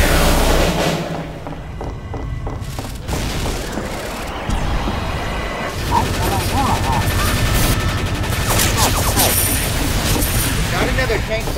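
Rapid gunfire and thumping blasts from a Team Fortress match, loud and continuous with bursts overlapping, while players call out and talk over the shooting.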